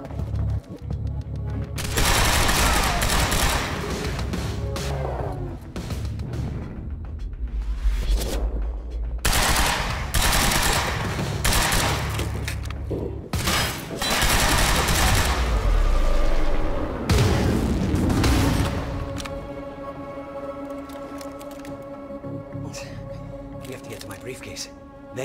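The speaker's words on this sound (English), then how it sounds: "Why are they still shooting?" Enemy gunfire in the action game Quantum Break crackles in heavy bursts and scattered loud shots during a library chase, with booming impacts and voices talking between the volleys before the shooting tails off.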